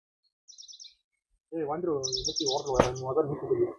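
Small sparrows chirp in short bursts from a palm tree, brief high tweets at first, then brighter chirping over a busy background of voices and movement.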